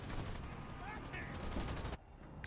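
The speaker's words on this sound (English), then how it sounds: "Under fire from enemy air units" Dense, continuous gunfire crackles through a battle in Halo Wars 2 as enemy air units attack, sustained bursts filling the scene before cutting off abruptly near the end, with faint game voices mixed in.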